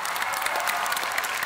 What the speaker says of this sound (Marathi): जोरदार टाळ्या रुजुता देशमुखसाठी